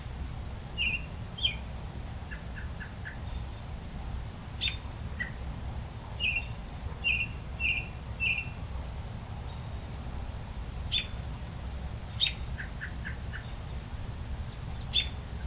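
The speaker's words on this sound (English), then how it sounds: "I love the sounds of the birds." Birds in a backyard in spring or summer: scattered short chirps and quick twittering calls at a moderate distance over a steady low outdoor rumble, with gaps between calls and no talking.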